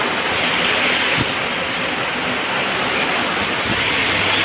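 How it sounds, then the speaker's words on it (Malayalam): Heavy rain pours down steadily in Kozhikode, Kerala, a loud, dense, continuous hiss that fills the whole stretch with no voices. "നല്ല മഴ."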